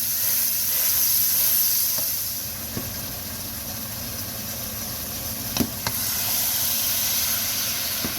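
Ground beef seasoned with kosher salt, black pepper and onion powder sears in a pot for one-pot chili, giving a steady, close hiss throughout with a few faint clicks and one brief knock.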